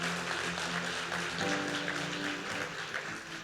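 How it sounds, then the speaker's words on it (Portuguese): Applause from a church congregation, a continuous wash of clapping with sustained tonal sound, likely music or voices, running underneath at moderate level. "Você pode dar um aplauso ao Senhor?"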